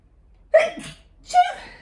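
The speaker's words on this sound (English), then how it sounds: "I'm going to sneeze." Two quick, sharp sneeze-like bursts, close to the mic, separated by a short pause in an otherwise quiet room.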